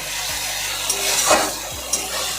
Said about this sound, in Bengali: টমেটোর কাঁচা গন্ধটা না যাওয়া অবধি আমরা কষাতে থাকবো